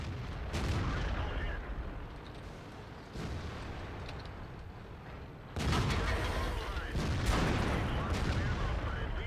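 Tank cannon fire in the World of Tanks video game, several heavy booming shots with rumbling decay, interleaved with someone talking excitedly over the game audio.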